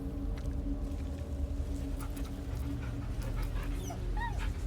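A dog whimpers and yips softly in Baldur's Gate 3, a few high whining cries over a low steady background hum, no talking.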